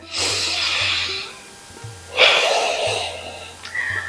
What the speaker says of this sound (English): again starting with a deep breath